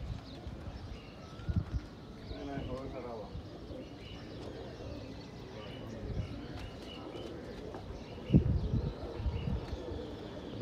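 Pigeons coo softly in a loft or rooftop setting, low murmuring calls scattered across the stretch amid general bird chatter and background noise, with a voice talking intermittently.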